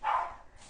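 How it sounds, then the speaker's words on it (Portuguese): A single short dog bark rings out indoors during a sourdough starter lesson, fairly faint and distant, followed by quiet room tone. "tem cachorro latindo"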